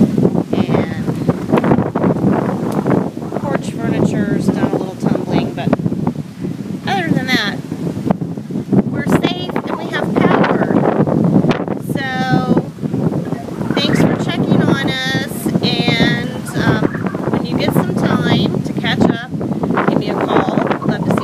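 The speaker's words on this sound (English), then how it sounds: "it's very stormy west. You really can't see much because it's really cloudy, and it's very windy" Strong wind from Tropical Storm Isaac roars and buffets the microphone continuously while a person talks over it.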